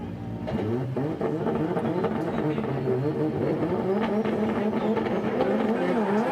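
A Lexus IS 350C and a BMW F22 battling in a drift competition at Sportsland Sugo in Miyagi, engines revving and wailing hard with fluctuating pitch, loud and sustained with faint commentary beneath.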